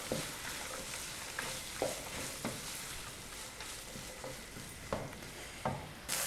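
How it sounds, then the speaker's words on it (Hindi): Keema being fried with frozen peas in a pan, a soft continuous sizzle with occasional scrape and tap of a spatula, quiet and close, no talking. "मटर को हमने कीमे के साथ शामिल कर लेना है और इसकी हमने 4 से 5 मिनट तक भुनाई कर लेनी है।"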